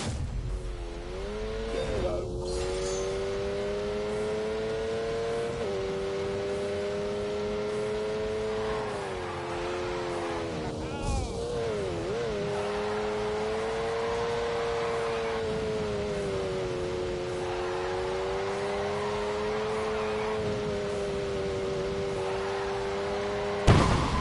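A Lamborghini engine held at high revs for a long stretch, the pitch wavering and dipping as it works against the load, with a couple of sharp blips and occasional tyre noise, loud and close.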